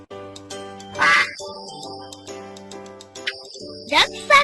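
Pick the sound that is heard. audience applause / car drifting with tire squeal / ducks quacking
ducks quacking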